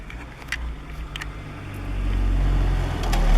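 A 1998 Acura Integra drives with a continuous road and engine rumble that swells as it accelerates, while a few brief, sharp clunks knock through it at irregular intervals.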